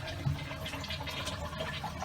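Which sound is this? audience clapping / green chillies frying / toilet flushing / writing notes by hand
toilet flushing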